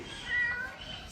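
Pancho the cat gives a single faint, short meow in a quiet room.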